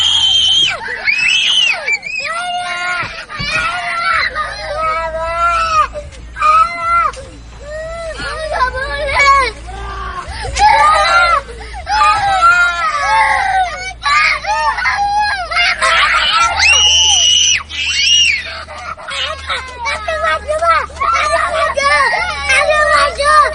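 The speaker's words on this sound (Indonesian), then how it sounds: "Pengemudi mobil dan 2 anaknya sontak berteriak histeris" A car driver and two children scream hysterically on a road in Malang, East Java, with loud, continuous, overlapping cries and shrieks throughout.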